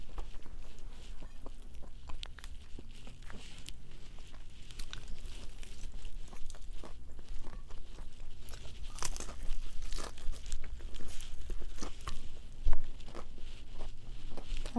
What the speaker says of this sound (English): There's some nice crunch going on.